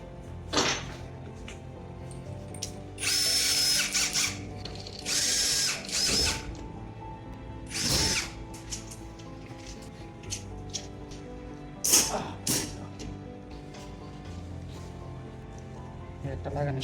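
A power drill bores a new hole in a treasure box in several bursts of a few seconds each, loud and close, with pauses and handling noises between them and some talk nearby.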